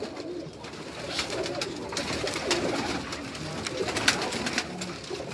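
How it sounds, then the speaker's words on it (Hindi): A Banka pigeon coos repeatedly on a rooftop in Karachi, a soft rhythmic cooing close by over steady outdoor background noise. "ये बांका कबूतर आपको दिखाने लगे हैं जी।"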